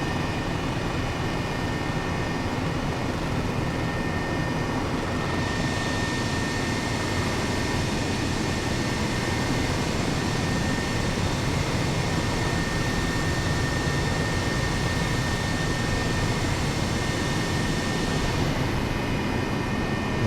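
Airbus H135 helicopter in a flight simulator game, a steady droning engine and rotor hum holding even and continuous through a long stretch, no voices present.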